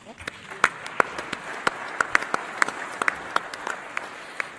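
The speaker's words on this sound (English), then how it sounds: "I think we deserve a round of applause" Audience applause at a start-up conference opening session, scattered sharp individual claps over a soft crowd bed, fairly faint and somewhat distant, with a voice murmuring underneath.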